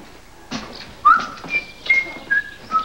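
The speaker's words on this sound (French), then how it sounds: "beau merle. Tu nous siffles ta chansonnette." A blackbird whistles its song outdoors, several short clear fluting phrases separated by pauses, fairly faint and alone with no talk.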